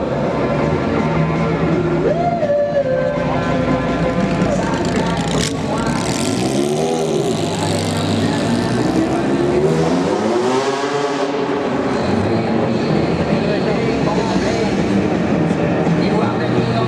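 A Peugeot 205 Turbo 16 Group B Maxi Turbo rally car at a London classic car show parade runs steadily with engine rising and falling in pitch as it passes, loud and continuous, with an announcer talking over it.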